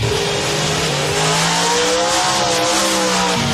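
Nitrous-powered 1990 Chevrolet Beretta drag race cars with 615 cubic inch Dalton Automotive engines launch together, a loud sustained engine roar rising in pitch as they accelerate, with a sharp change near the end.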